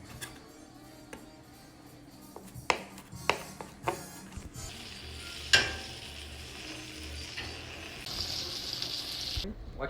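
Butter and garlic sizzle in a pan for a stuffed shrimp appetizer, a low steady frying hiss with several sharp utensil knocks and clinks, swelling to a louder sizzle near the end.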